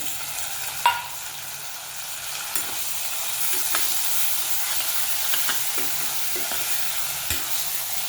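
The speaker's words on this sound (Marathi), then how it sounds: "हा टोमॅटो हे आपल्याला छान असा मऊसर परतून घ्यायचा आहे" Tomatoes sautéing in an onion tempering for pav bhaji give a steady soft sizzle, with occasional near scrapes and knocks of a stirring spoon against the pan and no voices.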